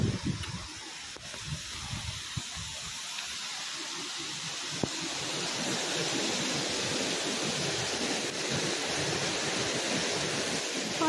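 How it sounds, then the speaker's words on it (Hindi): Rushing water from a waterfall between two rocks near Manali, heard as a steady, broad hiss that grows slightly louder and fuller partway through, with no voices. "वहाँ पे दो पत्थरों के बीच में वो वाटरफॉल है, तो वहीं से सारा पानी आ रहा है।"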